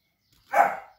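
A single short dog bark or yip from a house dog, one burst lasting about half a second, fairly close and alone with no talking.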